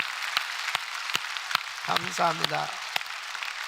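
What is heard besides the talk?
congregation applauding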